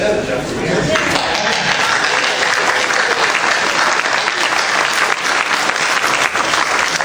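A comic convention panel audience at New York Comic Con breaks into sustained, dense applause that fills the room evenly throughout, loud and continuous with no pause.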